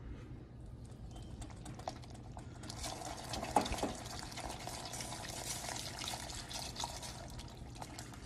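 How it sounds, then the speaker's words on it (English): Rum poured into a hot cake glaze in a pan on a just-switched-off stove sets off a soft sizzle and hiss, quiet and close, starting a few seconds in and continuing steadily with faint drips. "we'll add in the rum"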